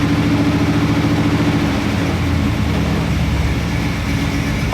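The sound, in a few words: Chevy small block 350 engine running at varying rpm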